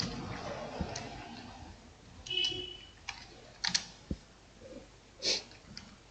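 Computer keyboard typing, sparse keystrokes and clicks spread across several seconds, close and fairly quiet, with faint breathing between them.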